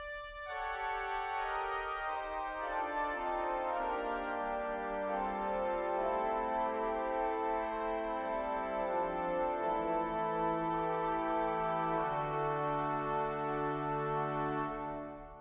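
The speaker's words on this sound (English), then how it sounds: "French strings are known for being lush and at the same time having a kind of sizzle on the top of them." Hauptwerk virtual pipe organ sounding lush French string stops with a bright sizzling top, slow sustained chords with a gradually descending line, soft and continuous throughout without any speech.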